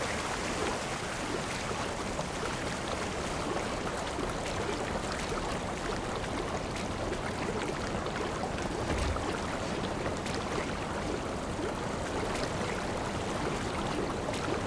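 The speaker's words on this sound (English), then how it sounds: "I have to actually lean over to get the paddle that much farther into the water" Paddle strokes churning whitewater while kayaking in the Whitewater VR game, a steady, dense rush of splashing and flowing water that runs continuously and fairly loud, with no voices.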